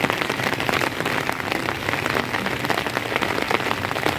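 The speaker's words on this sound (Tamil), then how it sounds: "2 நாளாக மழை விடாமல் பேஞ்சிட்டு இருக்குது" Heavy rain pours down steadily and close, a dense patter on surfaces that never lets up, with no one speaking.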